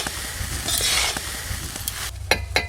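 Carrot rice sizzles in a hot cooking pan as it is stirred and tossed, with a soft steady frying hiss, spatula scrapes and a few sharp clinks near the end.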